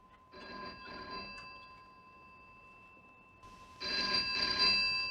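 An incoming call sets a telephone ringing indoors: two bright, trilling bursts of ring separated by a pause, clear and fairly close with no voices.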